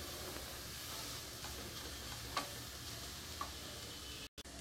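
Carrots fry in a pan for vegetable fried rice, making a soft, even sizzle with a couple of faint clicks of utensil against the pan and a brief dropout near the end.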